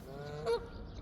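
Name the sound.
goose honking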